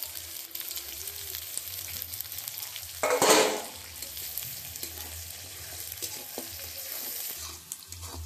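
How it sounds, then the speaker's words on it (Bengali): Chopped onion hits hot oil already holding cumin seeds and a bay leaf, a sharp sizzling burst that settles into a steady, close frying hiss with light stirring, no voices. "পেঁয়াজের কুচি দিয়ে দিচ্ছি।"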